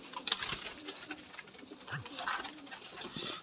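A pigeon coos softly, a low rounded call rising briefly over a busy background of rustling and faint distant noise.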